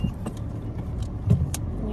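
Motorized tricycle on a road in Zambales, Philippines, its engine giving a steady low rumble close by for the whole stretch, with a faint rattle over it.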